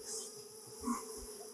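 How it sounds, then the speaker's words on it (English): Bees buzzing in a scene from The X-Files movie (1998), a steady insect drone running through the whole moment at moderate level, with a slight swell near the middle and no talk. "Not the killer bees again. Not the killer bees."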